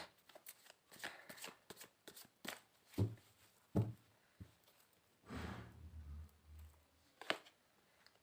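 Tarot cards being shuffled by hand during a reading, a run of crisp riffling flicks and soft card slaps in uneven bursts, close and fairly quiet with no speech.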